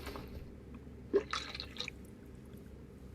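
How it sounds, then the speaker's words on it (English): Coolant drains from a car radiator in Car Mechanic Simulator 2021, heard as a few soft, sparse drips and a faint liquid splash against a quiet background. "let's drain the radiator"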